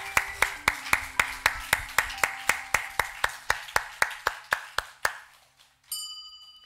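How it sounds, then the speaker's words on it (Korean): A church congregation claps together in steady unison at an even rhythm, about eighteen crisp claps that stop abruptly, followed by a brief ringing tone. "우리 하나님께 감사의 박수를 드리시겠습니다."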